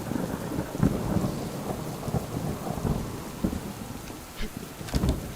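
Steady rain and rolling thunder from the survival video game Subsistence fill the scene, a dense, continuous wash with low rumbles swelling throughout and no talk.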